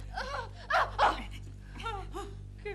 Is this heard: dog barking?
yes